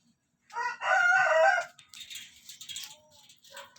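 A rooster crows loudly once near the start, followed by softer clucking and chicken chatter with faint background sounds.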